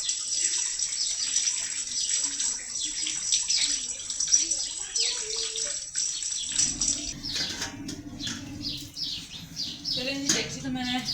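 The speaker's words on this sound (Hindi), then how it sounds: "मैं हल्का सा सर्फ डाल के हाथ धो रही हूँ" Hands being washed with a little detergent under a running tap to strip grease, a steady hiss of flowing water throughout, shifting to heavier splashing and rubbing near the end, with faint bird chirps outdoors.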